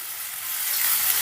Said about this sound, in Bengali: গ্যাসের আঁচটা মিডিয়ামে রেখে পেঁয়াজটা আমি বেশ লাল লাল করে ভেজে নেব